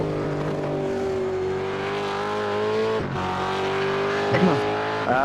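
A V8 race car in a sim racing game tears flat out around a corner at Brands Hatch GP, its engine note a steady loud sustained whine that dips briefly, with faint tire noise and a low voice in the background.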